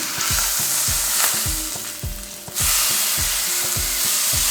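Beef rib steak chops searing in a hot pan, loud steady sizzling with rhythmic ticking pops, briefly dipping before surging back as the meat is turned.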